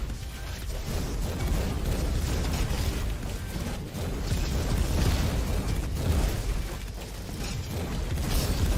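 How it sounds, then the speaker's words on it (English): Mortar explosions in the video game Roboquest boom and burst continuously in a dense, loud barrage for several seconds, the blasts overlapping with rumbling game noise and no clear gaps between them. "It's like the game knows I'm using a mortar."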